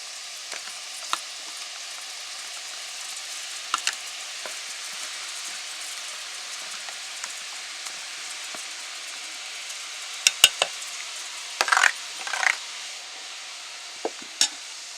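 Snack batter pressed into hot oil in a wok, a soft steady sizzle and fizz throughout with occasional sharper crackles and pops, no talking.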